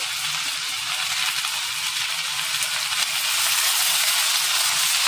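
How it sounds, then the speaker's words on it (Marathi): Tomato and steamed corn sautéing in a pan give a steady, close hiss of frying that runs unbroken and grows slightly louder toward the end, with no voices. "एक 2 मिनिटं फक्त परतून घ्यायचं आहे आपल्याला"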